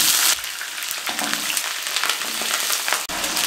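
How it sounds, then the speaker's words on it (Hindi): Potatoes dropped into hot oil for dum aloo, a dense crackling sizzle that begins abruptly and stays busy and close, with a short break near the end. "सबसे पहले हम ऑयल में डालेंगे आलू"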